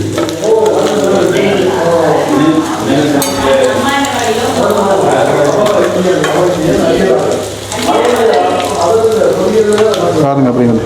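Vanjaram fish sizzles steadily in hot oil, with a constant crackling hiss and occasional stirring or scraping sounds mixed in.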